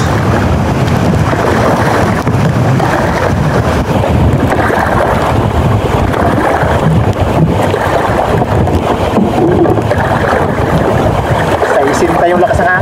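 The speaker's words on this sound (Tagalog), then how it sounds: "Sa yung lakas ng hangin." Strong wind roaring and buffeting against the microphone, constant and loud throughout, with a low rumbling undertone.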